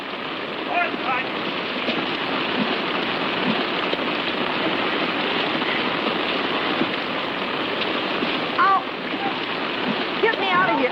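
Artificial rain pouring in a 1953 comedy film scene, a dense steady hiss of falling water, loud and continuous, with voices calling out over it.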